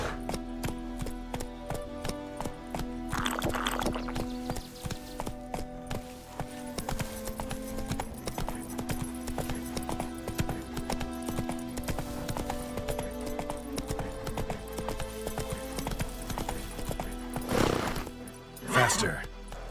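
A horse is ridden in a video game, its hooves making a steady, rhythmic clip-clop throughout at a constant close level, with brief louder snorts near the end and a voice talking over it.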